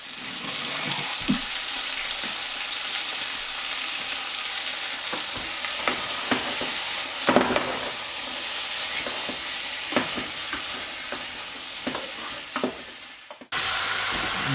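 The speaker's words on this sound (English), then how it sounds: "So we're still cooking the onions, the ginger and the pepper." Onions, ginger and pepper fry in a pot for garlic and onion soup, a continuous even sizzle with occasional spoon taps and stirring knocks throughout, close and moderately loud.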